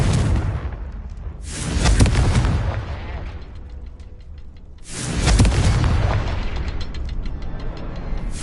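Confringo fire spell blasting in the Hogwarts Legacy video game: two loud, booming explosive bursts a few seconds apart, each with a roaring rumble that trails off, over steady game ambience.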